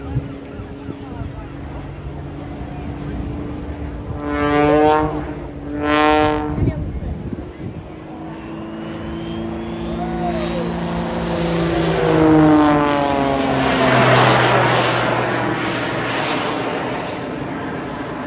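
A propeller aircraft performs a flying display at Blackpool Airshow 2024, with two quick nearby passes followed by a long, building drone as it sweeps past again, under a commentator's voice.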